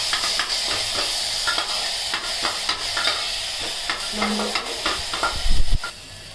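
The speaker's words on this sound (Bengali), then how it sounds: "ভালো করে নাড়িয়ে নেবো।" Onion, ginger and tomato frying in a pan while being stirred over lowered gas flame, with scraping strokes over a steady sizzle and a louder clatter near the end.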